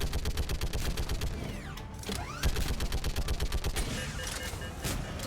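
Rapid, continuous turret gunfire in the video game Mass Effect 3, a dense rattling stream of shots with mechanical whirs and brief sweeping tones, loud and steady throughout.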